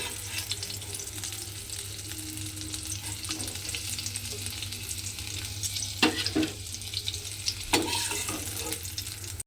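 Okra frying in hot oil, a continuous close crackling sizzle with a few louder scrapes and taps of a spatula toward the end, no talking.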